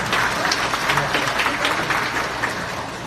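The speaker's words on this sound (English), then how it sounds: "Let's all give them a round of applause" A crowd at a school graduation ceremony applauding the teachers, a steady wash of many hands clapping at moderate distance, continuous and even throughout.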